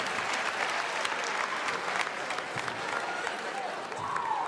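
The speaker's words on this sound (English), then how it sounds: "Clap again, yeah." Audience applause at a PAX West 2016 convention Q&A panel, a dense, steady burst of clapping from a large crowd filling the whole stretch, with faint voices mixed in.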